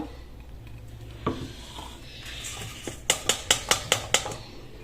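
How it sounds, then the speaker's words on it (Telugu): Sabudana flour is sifted through a metal sieve in a home kitchen, giving a soft rustle followed by a run of about six sharp, evenly spaced taps of the sieve against a rim, close and fairly loud. "ఇప్పుడు మనము పిండిని జల్లించుకోవాలి."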